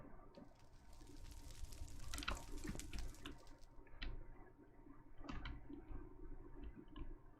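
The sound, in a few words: water in the video game Chaoskraft 2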